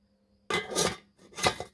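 Metal cookware lids and kettles in a camp cook box, two short bursts of clanking and rattling as lids are handled, close and moderately loud after a quiet start.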